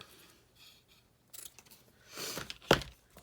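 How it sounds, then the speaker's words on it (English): Paper being cut with scissors for a Christmas tag craft journal, a few quiet snips followed by a louder, sharper cut near the end, close and alone. "I'm going to cut off quite a bit"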